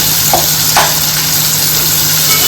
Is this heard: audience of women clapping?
no